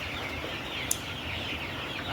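A flock of 43-day-old broiler chickens on a poultry farm keeps up a dense, low murmur of clucking, a steady, faint din with no single bird standing out.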